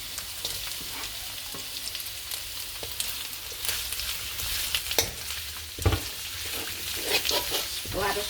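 Onions fry with garlic in a pan for veg Manchurian, a close steady sizzle with spatula scrapes and stirring knocks growing busier toward the end, no talk.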